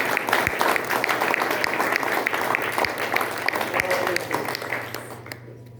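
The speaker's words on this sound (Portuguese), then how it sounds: "Vamos aplaudir a Deus." A church congregation at a men's gathering applauds, with many hands clapping in a lively, steady patter at close range that thins out toward the end.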